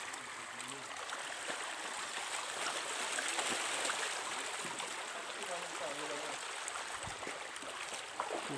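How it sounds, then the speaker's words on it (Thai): A stream flows steadily with a soft, even rushing and gurgle, moderately quiet and continuous throughout. "น้ำไหล"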